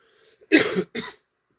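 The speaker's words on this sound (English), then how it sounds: "Pardon me for the cough." One person coughs twice in quick succession, the first longer and harsher, then silence.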